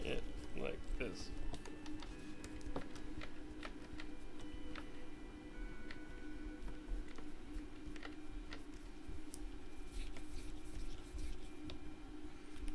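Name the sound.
screwing long screws into a 3D-printed shell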